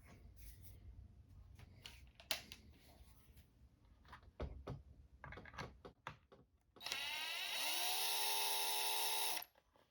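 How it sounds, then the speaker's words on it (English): Working on the chassis of an Arrma Typhon RC car, scattered clicks and taps of screws and parts being handled, then a loud whirring power screwdriver running steadily for about three seconds. "Now I have to remove those 4 screws as you saw here to reroute the servo wires underneath the chassis."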